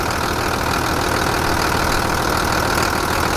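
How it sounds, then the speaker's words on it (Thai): Isuzu TXD40 six-wheel dump truck, DA120 type, with its engine idling, giving a steady, loud, continuous rumble that holds unchanged throughout with no voices over it. "วันนี้ติดเครื่องอยู่นะครับนี่ เครื่องหมุนอยู่นะครับ"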